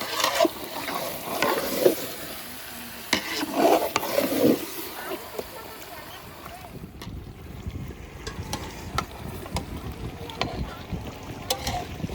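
Curry with turmeric is stirred in a pot over heat, a ladle scraping and swishing through the mixture amid a low sizzle, with intermittent clinks and some distant voices in the background.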